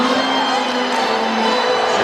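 A basketball arena crowd cheers and shouts at a steady loud roar throughout, a dense wash of voices with no break.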